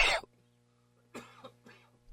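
One sharp, loud cough close by, then a pause and a few softer coughs or throat-clearing sounds in quick succession.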